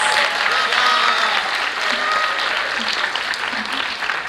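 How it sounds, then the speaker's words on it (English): Sustained audience applause at a school debate competition final, a dense steady wash of many hands clapping that fills the hall throughout, with a few faint voices and cheers mixed in. "Can we give him a round of applause?"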